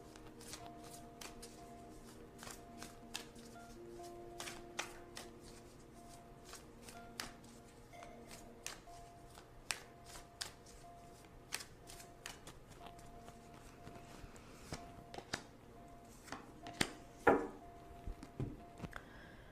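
Tarot cards shuffled and drawn by hand, with a long stretch of soft, close, irregular taps, riffles and card slaps, quiet throughout and with no talking.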